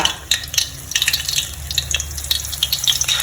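Thai fish cake paste made from clown featherback fish dropped piece by piece into hot oil, frying with a steady crackling sizzle and scattered sharp pops, close up with no talk.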